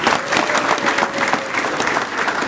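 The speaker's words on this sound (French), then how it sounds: "je vais demander à l'assistante d'applaudir pour la jeunesse de notre parti." Audience applause at a political party book launch, a dense steady wash of many hands clapping throughout, loud and continuous with no gaps.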